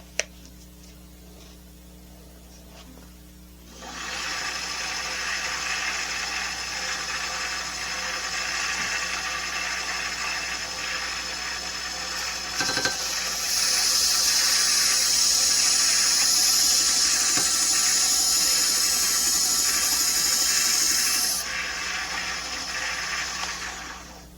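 A belt sander with a 320 grit belt grinds a burr off the back of folded metal: a steady, loud abrasive whir starts after a few seconds, grows harsher and brighter during one quick pass, then settles again.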